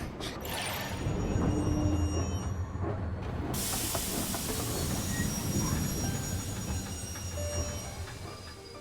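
A train pulls away in the Genshin Impact game world, with a steady low rumble, rolling rail noise and a hissing wash of high sound throughout, loud and continuous with no pause.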